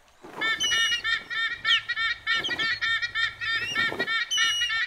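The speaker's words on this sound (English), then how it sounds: "Hey, there's a large bird up there." A large bird in an animated children's wildlife show honks in a rapid series of loud, nasal, goose-like calls that repeat throughout with no talk.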